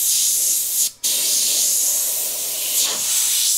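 An Iwata HP.BCS siphon-feed airbrush sprays paint, some of it thick and stuck in the nozzle, as a close, steady, high hiss with a brief cut near the start and a slight surge near the end.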